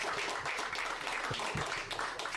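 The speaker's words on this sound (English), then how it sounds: "I want to have a massive applause for your wonderful panel." An audience applauds after a conference panel at Cannes Lions, producing a dense, steady wash of clapping that is moderately faint and continuous throughout.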